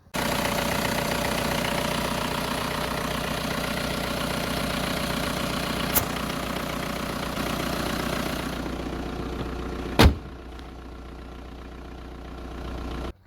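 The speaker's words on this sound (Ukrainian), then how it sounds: "запускаємо двигун і перевіряємо, як воно все буде працювати" A Volkswagen Golf 4 1.9 diesel engine starts and idles steadily up close after gearbox mount bracket replacement, a low rumbling drone with a couple of sharp clicks, its tone thinning slightly near the end.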